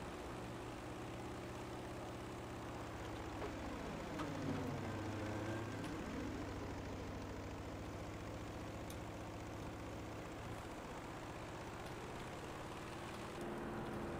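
A propeller warplane drones overhead in a Battlefield V match on Iwo Jima, its engine holding a steady mid-distance roar that swells and passes with a Doppler sweep under constant background battle noise.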